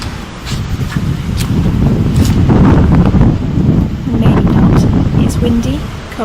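Strong wind buffets the microphone outdoors, a loud rumbling roar that swells and dips in gusts throughout.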